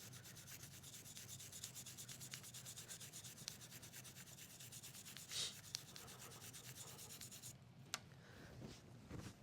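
Bore brush scrubbing the barrel of a Taurus Raging Hunter revolver after a spray of solvent, quiet rapid back-and-forth rubbing strokes close up, with a couple of small clicks near the end.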